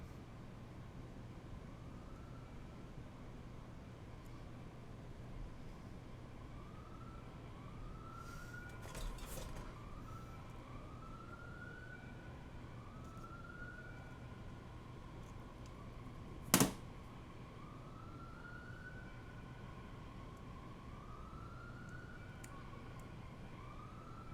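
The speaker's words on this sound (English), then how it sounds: "You hear the sirens outside?" Faint siren wailing in the distance, rising and falling repeatedly over a low steady background hum, with one sharp click partway through.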